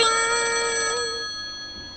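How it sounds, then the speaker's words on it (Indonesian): A telephone rings with a bright, electronic, tonal trill that cuts off after about a second, leaving a fading echo and low background, during a spoken Indonesian children's story. "Tiba-tiba telepon berbunyi."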